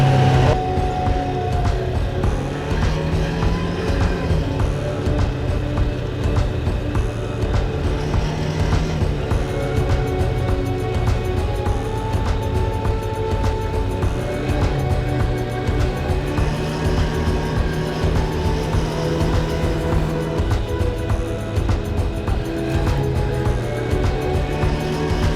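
An ATV engine drones steadily and loudly while riding through a valley, its pitch rising and falling with throttle changes and no talk over it.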